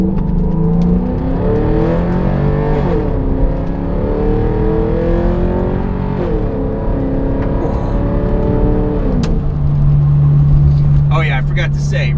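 A lifted 2004 Porsche Cayenne S with 150k miles accelerating hard, its engine note rising through the gears in loud, close sweeps with shift breaks, ending in a steady cruise drone as a person talks over it.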